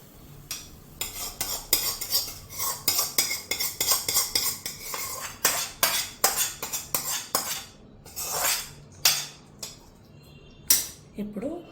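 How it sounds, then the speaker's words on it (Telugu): A spoon scrapes and clinks against a pan and plate while cooked tomato chutney is scooped out, a close, busy run of metallic taps and scrapes that comes in uneven bursts and falls quiet near the end. "ఇప్పుడు స్టవ్ ఆఫ్ చేసేసుకుని ఈ మొత్తం పచ్చడిని ఒక ప్లేట్లోకి తీసుకుందాం."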